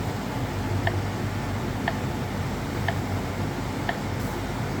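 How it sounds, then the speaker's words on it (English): The timer on a Mayku vacuum forming machine ticks four times at a steady one-second pace, crisp and close, over the constant hiss and hum of the running machine. "You can hear the timer ticking, it's getting closer to time."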